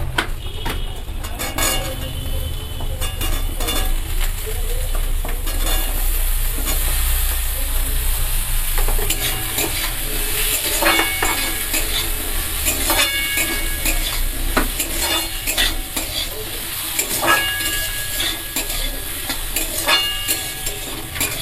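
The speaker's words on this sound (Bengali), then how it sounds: "কিন্তু লো ফ্লেমেই আলুটা ভাজছি।" Potatoes frying in a pan over a low flame after onions have browned, giving a steady soft sizzle with occasional scrapes and clinks of a spatula against the pan, no talking.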